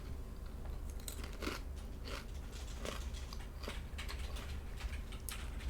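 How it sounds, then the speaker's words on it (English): Fast, heavy typing on a computer keyboard, a quick run of sharp clacks and taps at a low, steady level against a constant background hum. "Nate is a passionate typer"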